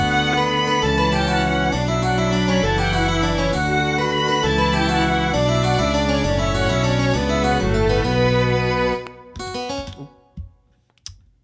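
A violin holds long notes over an ensemble of strings and a low bass; the music cuts off, followed by a few faint clicks.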